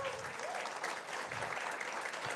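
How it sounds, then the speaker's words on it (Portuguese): Steady audience applause fills the room at a tech engineering talk as two AWS solutions architects are welcomed on stage, a continuous even patter of many hands with some faint murmuring underneath. "uma salva de palmas para eles."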